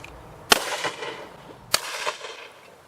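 Two sharp shotgun blasts about a second apart from a Benelli 828U over-and-under fired at clay targets outdoors, each crack trailing off in a brief echo.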